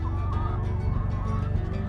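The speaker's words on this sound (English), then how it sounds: "More chickens!" A flock of backyard chickens clucks and murmurs continuously up close, a dense layered chorus of overlapping calls.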